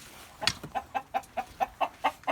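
Chickens on a dairy cattle farm clucking in a steady run of short, evenly spaced clucks, fairly close and moderately quiet, with no other sounds.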